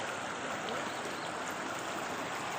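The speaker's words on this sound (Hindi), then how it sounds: "ये देखें लोगों के घरों में पानी चला गया।" Floodwater after heavy July rain in Rawalpindi–Islamabad pours into homes and basements, a steady, dense rushing and gurgling that holds even throughout, heard at a moderate distance and without clear speech.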